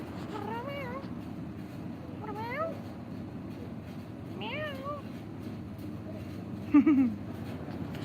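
A cat meows repeatedly, four rising-and-falling calls spaced a couple of seconds apart over a steady low rumble, the last one slightly louder.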